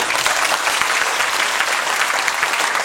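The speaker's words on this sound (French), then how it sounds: "je crois qu'on peut applaudir Monsieur le maire" An audience claps steadily for the town mayor at a school circus-week event in Morhange, dense and sustained applause filling the hall with no voices over it.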